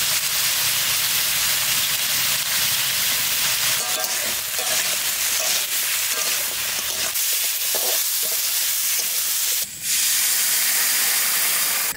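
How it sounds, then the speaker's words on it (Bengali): Mustard oil hisses and sizzles loudly in a hot pan close by, a dense, continuous frying hiss with a brief dip near the end. "তরকারি চাপাবো, সরষের তেল দিয়ে দিচ্ছি।"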